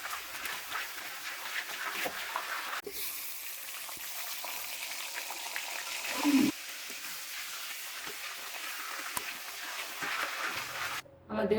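White oil heats in a hot kadai, giving a steady, close hiss and sizzle that runs throughout, with a brief louder clatter midway and a short drop near the end.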